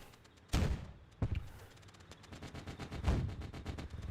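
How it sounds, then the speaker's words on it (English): Artillery fire in a Theatre of War 2 battle at Cheux: two heavy booming shots a moment apart, then a rapid rattling run of gunfire and another deep blast, loud and continuous. "is my artillery firing or is it running out of ammo?"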